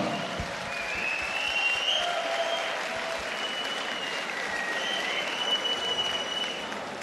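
Steady applause from a large crowd at a women's cage fight fills the whole stretch, with cheers and whistles rising above the clapping.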